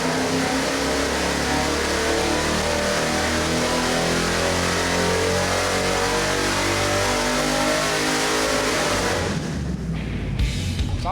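Chevy 350 small block with flat-top pistons at 9:1 compression and slightly advanced timing, bound for a '69 Camaro, revving hard on a dyno: a loud, sustained, rising engine roar that cuts off abruptly near the end, with no talk.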